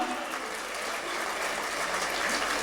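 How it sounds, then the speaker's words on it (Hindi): A crowd at a Hindi poetry gathering, part of a Jain festival cultural program, claps in a continuous, fairly distant wash of applause with no voices standing out. "एक बार अपने लिए ताली बजा दी"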